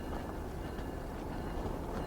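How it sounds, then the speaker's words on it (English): White Pass Yukon Route train in a new paint scheme rolling past nearby, a steady, dense rumble with faint clattering that holds unchanged throughout, with no voices. "So this is the White Pass Yukon Route train with the new paint scheme."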